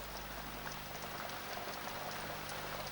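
Rain falling on dry soil in a Holy Land nature setting, a dense continuous patter of drops at even, moderate level with no voices.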